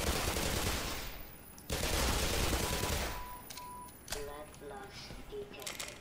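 Loud, dense bursts of gunfire in the video game Black Mesa fill the first seconds, stop briefly and then resume. Game beeps and chimes follow, and a person talks over the shooting.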